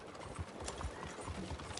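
A horse's hooves clip-clop at a steady trot in Red Dead Redemption 2, rhythmic thuds close by over outdoor game ambience.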